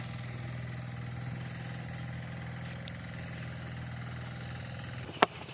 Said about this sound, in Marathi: ते बघा त्यासाठी आमचं ट्रॅक्टर चालू आहे